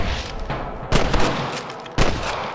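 Gunfire at snipers in Red Dead Redemption, two loud sharp rifle shots about a second apart, each echoing over a noisy background of distant shooting, with no talk.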